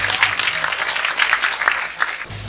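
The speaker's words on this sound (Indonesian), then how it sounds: "tepuk tangan yang meriah" Lively audience applause breaks out at a cultural gathering after a music performance, dense close clapping from a crowd that holds steady and fades slightly near the end.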